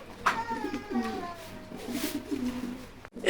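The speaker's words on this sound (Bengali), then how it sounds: "অনেক বিগ সাইজের কবুতর দুইটা" Large pigeons cooing steadily at close range, their low rolling coos overlapping, with faint chatter from other birds in the background.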